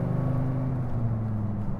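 Dodge Viper with an aftermarket cam and tune, well beyond its stock 500 horsepower, idling or cruising with a steady, loud low-pitched engine drone and a choppy, lumpy pulse throughout.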